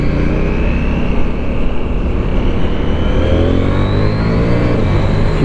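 Husqvarna Svartpilen 801 motorcycle engine pulling hard under acceleration, steady loud drone with rising pitch sweeps as the quickshifter snaps through gear changes without a break in the sound.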